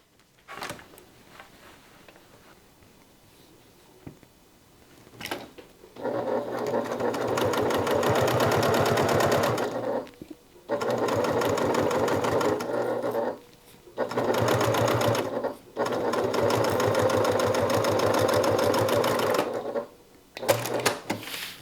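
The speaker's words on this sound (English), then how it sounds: "And then we're going to stitch using a 1/4 of an inch seam allowance" A sewing machine stitches a bag flap to the upper back with a quarter-inch seam, running in three long, steady bursts of fast mechanical whirring separated by short pauses, close and loud with no talking.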